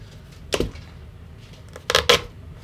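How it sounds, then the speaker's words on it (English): A knife slicing away excess cloth bunched inside an SX GA1065 electric guitar amplifier being refurbished, heard as a few short, close scraping cuts, one single stroke followed by a quick pair. "I'm going in with a knife and I'm just gonna cut it away like that"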